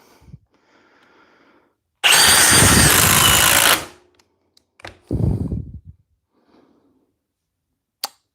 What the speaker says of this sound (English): Drill in my left hand, impact driver with a pilot hole in my right